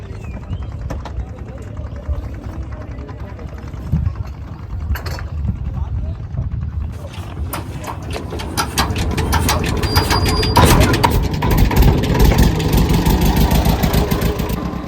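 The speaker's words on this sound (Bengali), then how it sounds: "নৌকার ইঞ্জিন চালু হয়ে গেছে।" A fishing boat's engine starts and settles into a steady running drone as the boat pulls away from a riverside ghat on the Bidyadhari river in the Sundarbans, growing louder toward the end, with people talking over it.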